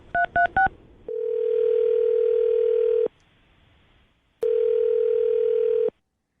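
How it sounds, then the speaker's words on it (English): Three quick touch-tone dialing beeps open on a telephone line, followed by two long, steady ringback tones separated by a short quiet gap, clear and fairly loud with no voices. "I'm going to dial her phone number right now"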